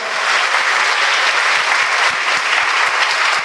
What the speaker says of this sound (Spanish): Aplausos para las madres de San Antonio del Táchira.